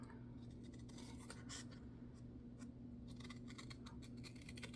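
Scissors snipping through a paper bag being made into a book cover, a run of close crisp cuts and rustles, quiet over a faint steady hum.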